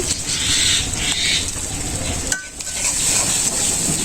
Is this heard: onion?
yes